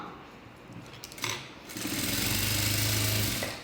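A sewing machine runs a steady stitch along a folded 1.5-inch hem laid over lining cloth for a puff sleeve. The motor hums evenly and close for about two seconds after a brief quieter lead-in.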